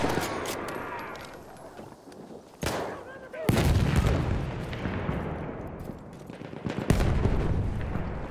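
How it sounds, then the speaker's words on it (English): Gunfire and artillery in Battlefield 1 during a battle, with loud bursts of shots and booming blasts in a dense noisy mix, and in-game voices shouting over it. "Enemy machine gun sighted!"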